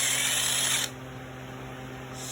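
A power drill spins a step drill bit inside a pipe to clean it out during power steering and fuel line repair work, a steady high whine that drops and settles midway, close and alone.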